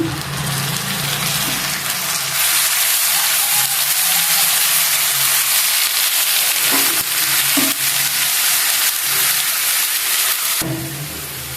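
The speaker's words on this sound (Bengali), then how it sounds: "আমি মশলাটা সুন্দর করে একটু কষিয়ে নেব" Spice paste of cumin, turmeric, chilli powder, onion paste, garlic paste and salt frying in a pan makes a loud, continuous sizzle, broken by repeated scraping and stirring knocks near the end.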